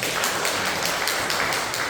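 Warm applause from a church congregation during a Sunday worship service, greeting a newcomer: a steady, dense wash of clapping that fills the whole moment without a break.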